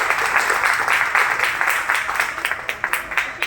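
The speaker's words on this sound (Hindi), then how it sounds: "उसके लिए जोरदार तालियां हो जाए" Crowd applause at a community charity prize event for students, a dense burst of clapping that thins into a few distinct, sharper claps near the end.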